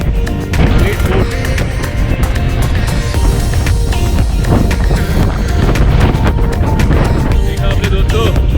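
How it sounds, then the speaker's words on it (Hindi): Strong wind buffeting the microphone on the rocky hilltop of Makalidurga near Bangalore, a loud, constant roaring rumble that swamps everything, with voices faintly beneath it. "बहुत तेज हवा चल रही है, बहुत तेज"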